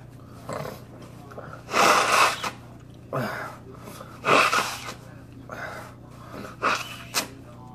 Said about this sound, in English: Gotta blow my nose.